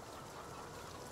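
Chickens in the Farming Simulator 19 video game cluck softly and steadily in a faint, continuous farmyard murmur with no talk.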